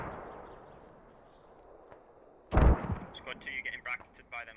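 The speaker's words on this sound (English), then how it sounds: "And more mortars coming in." A mortar round lands in the Squad military shooter game, one heavy booming impact following low rumbling battlefield ambience, then crackling debris and faint chatter.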